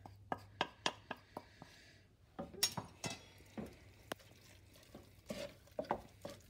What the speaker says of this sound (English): when I put this in I'm going to start to stir to make sure that my eggs don't separate and cook